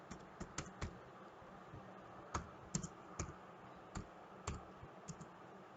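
Computer keyboard keys clicked one at a time, a key combination pressed to compile a program, giving about a dozen sharp, irregular taps over a faint steady room hiss with no speech.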